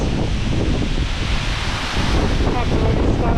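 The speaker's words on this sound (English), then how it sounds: "it's bloody windy right at the base" Strong wind at Arthur's Pass roars and buffets continuously against the microphone, a steady loud rush with gusting swells and no voices.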